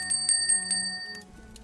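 A small bell is rung to summon someone, giving several quick, bright metallic dings in a row, close and clear, that fade into a quiet room.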